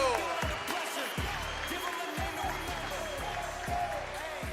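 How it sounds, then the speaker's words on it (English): Crowd applause and cheering at a trampoline wall competition, a steady wash of clapping with repeated low thumps from the trampoline action running underneath. "Big round of applause for Taku."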